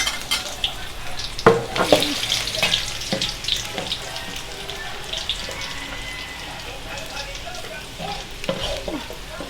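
Garlic sizzles and crackles in hot oil in a pan, with occasional stirring scrapes and clinks throughout.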